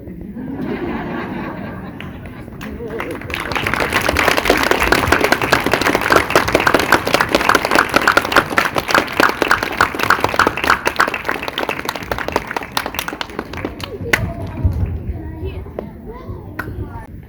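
An audience at a school Christmas program bursts into sustained applause that swells after a few seconds of murmuring, holds as a dense, close clatter of hands with children's voices and chatter mixed in, then tapers off.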